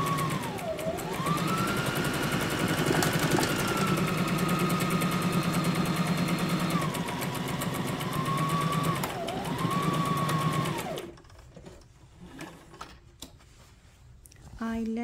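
A Brother SM2700 sewing machine runs in a steady, continuous mechanical whir while locking a stitch, with a rising and falling motor tone, stopping near the end and leaving quieter handling noise.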